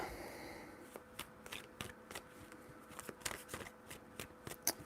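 Tarot cards being shuffled, a quick series of soft, close clicks and flicks in an irregular rhythm over a low background hiss, faint overall.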